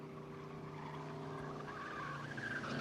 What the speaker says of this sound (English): it sounds like he's got some kind of tire screech on the vehicle there